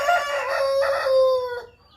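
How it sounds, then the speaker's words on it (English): A rooster crows once, loud and close, a long rising and falling call that fades at the end. "the rooster is making noise for me"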